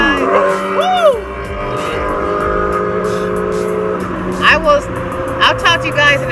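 Several cars drive past on a road, with tire noise and engine hum swelling and fading, while a person talks over the traffic.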